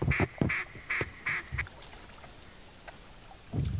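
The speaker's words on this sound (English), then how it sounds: "Oh, ducks." Ducks quack in theHunter hunting game, several short nasal calls in a quick burst near the start, then quieter scattered calls and a low thump at the end.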